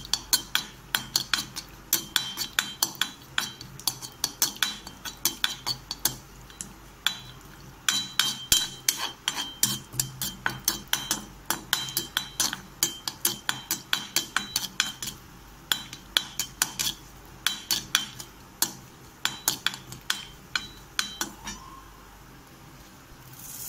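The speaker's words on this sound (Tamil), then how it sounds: "நம்ம முதல்ல முந்திரி தனியாக வறுத்து எடுத்துடலாம்." Cashews sizzling as they roast in ghee in a pan, with a spoon repeatedly clinking and scraping against the metal in a steady, busy rhythm close by, no talking.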